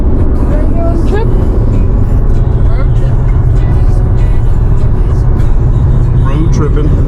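Steady road noise from a car on a highway road trip to Maine, a constant low rumble filling the whole stretch while people talk over it.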